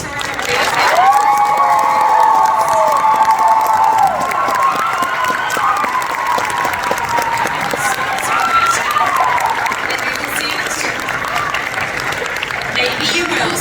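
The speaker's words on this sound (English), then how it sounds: "can we get one more round of applause for our" A convention audience claps and cheers loudly at the close of a Baldur's Gate 3 cast panel at Kawaii Kon 2025, shouts rising over dense applause that slowly tapers, with voices mixed in.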